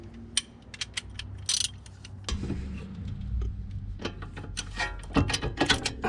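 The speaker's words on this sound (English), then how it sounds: "we can start tying them up with the wrench." Wrench ratcheting as brake caliper bolts are tightened on a Honda Civic EK3 during a front disc and pad replacement, giving a series of sharp clicks and metallic ticks at close range.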